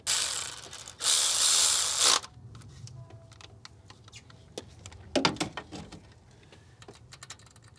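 A ratchet tightens a rocker arm on a damaged Cadillac Escalade engine: a loud burst of rapid clicking, followed by scattered metallic clicks and taps close by.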